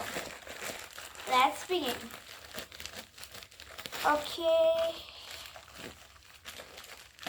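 A book parcel is torn and unwrapped at close range, with crinkly bursts of crumpling and tearing wrapping, one near the start and a longer one around the middle, while someone talks briefly.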